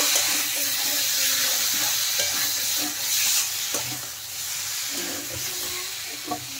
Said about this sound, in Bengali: দেখেন, মশলা থেকে তেল ছেড়ে আসছে। এখন আরেকটু নেড়ে দেব